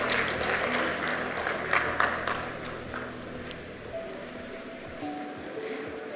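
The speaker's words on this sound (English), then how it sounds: "Please give him a big round of applause." An audience applauds to welcome a panelist at a panel discussion on digital privacy, a steady wash of many hands clapping that gradually thins out, with faint tones and murmurs underneath.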